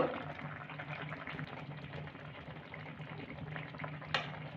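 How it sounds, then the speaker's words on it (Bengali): A milk and potato curry with pointed gourd and fennel simmering in a pot over a medium gas flame, a continuous low bubbling hiss close by, with a brief clink near the end. "এবার আমি এটাকে ফুটতে দেবো, গ্যাসের আঁচটাকে মিডিয়ামে করে দেবো।"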